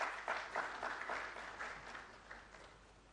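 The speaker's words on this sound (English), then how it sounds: "With a round of applause, I would ask you to please welcome Engineer Awoyomi." Brief, fairly faint applause from an audience welcoming a panelist at an oil industry summit, a few seconds of clapping that swells in small bursts and tapers off.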